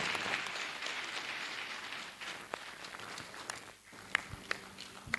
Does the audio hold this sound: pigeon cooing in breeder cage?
no